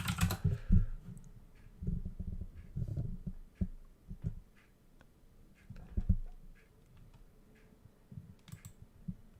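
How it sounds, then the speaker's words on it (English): Keys clack on a computer keyboard in irregular bursts of soft close taps, with pauses and a low background thump, no speech. "Typing well without looking."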